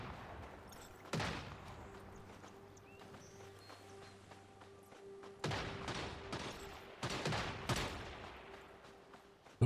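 Gunfire in the game Once Human comes as scattered bursts of shots over a steady ambient hum, some clustered and some single, at moderate distance.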